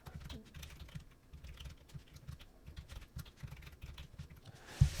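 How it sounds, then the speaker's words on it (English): Fingers type on a computer keyboard in a quiet room, a soft, fairly rapid patter of keystrokes that continues steadily before a brief louder knock at the end. "let's type here"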